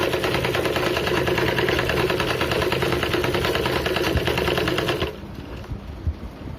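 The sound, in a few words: sewing machine stitching blouse fabric edge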